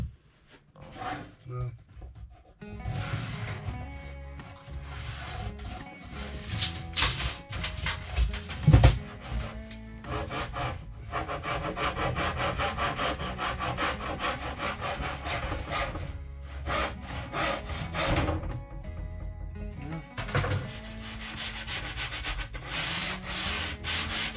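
A wooden board is cut by hand saw in a home workshop, with a steady rasping back-and-forth stroke that runs on continuously over several seconds, fairly close and moderately loud.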